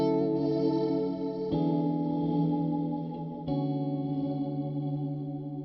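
Electric guitar through an Axe FX 3 processor with a stereo delay, three strummed chords ringing out with chorus-like shimmer and echoing repeats, steady and moderately quiet.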